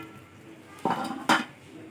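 A lid placed onto a cooking pot of boiling food rice with carrots, two quick metallic clanks in close succession over a quiet background.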